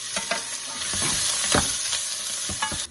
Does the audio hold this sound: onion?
yes